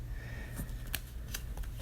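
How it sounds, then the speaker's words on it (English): Tarot cards are shuffled by hand up close, a quiet riffling with a few crisp flutters against a steady low background hum, no talking. "So I'm going to shuffle the cards"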